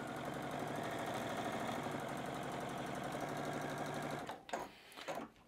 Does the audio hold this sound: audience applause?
no